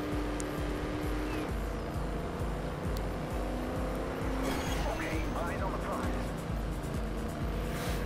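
A car drifting in the racing game Trackmania Turbo: a continuous engine roar with long squealing tire skids, loud and steady throughout.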